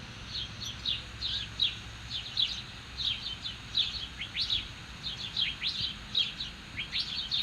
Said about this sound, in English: These birds need to be heard, but I don't understand them.